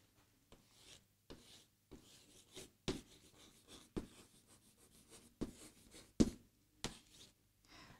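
Handwriting on paper, soft scratching strokes in short bursts with brief pauses, quiet and close, no voices.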